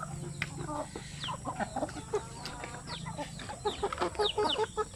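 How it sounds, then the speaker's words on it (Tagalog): Zampen native chickens in a netted breeding pen cluck and call in short irregular bursts, close by and fairly loud over a steady background hum, with no talk. "makintab ang balahibo ng ating mga sampin"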